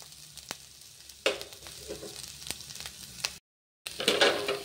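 Potatoes frying in a pan for a dhaba-style egg curry, a steady close sizzle with sharper crackling bursts and occasional stirring clatter, briefly cut to silence before the frying resumes loud.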